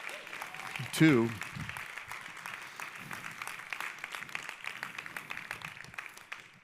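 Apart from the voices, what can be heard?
applause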